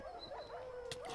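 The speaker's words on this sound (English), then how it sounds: "Right, dogs, come down here." Dogs in the Minecraft video game on PS3 make faint whimpering, yipping calls, a few short wavering cries heard quietly in game audio.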